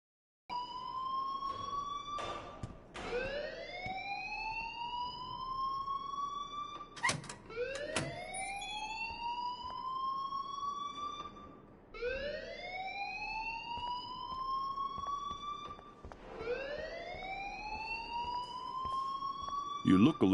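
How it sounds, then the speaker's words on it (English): In the video game Life is Strange, an electronic fire alarm wails in repeating rising sweeps, five or so cycles at a steady rhythm, moderately loud throughout the stretch. "please turn off that alarm"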